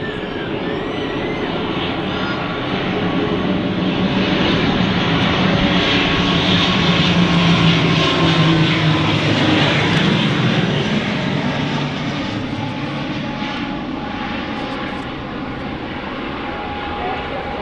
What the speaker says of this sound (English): Logan ATR 72.